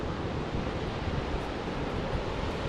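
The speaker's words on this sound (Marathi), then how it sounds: "हे बाजूलाच समुद्र आहे खालीच समुद्र आहे" Sea waves wash steadily below Purngad Fort on the Ratnagiri coast near Pawas, a continuous broad roar of surf with some wind buffeting the microphone and no voices.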